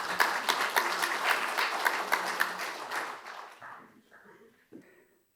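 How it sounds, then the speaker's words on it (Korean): Audience applause at a Buddhist spring dharma service held at the National Assembly, welcoming a party leader's congratulatory address; dense clapping for about three seconds that thins out and fades, with a few scattered claps after. "큰 박수로 맞아주시기 바랍니다."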